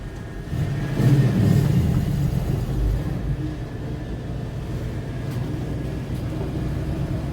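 A Holley-carbureted Magnum 5.9L V8 pulls uphill in third gear, a steady loud low rumble of engine and road noise that swells briefly early on and then holds even throughout.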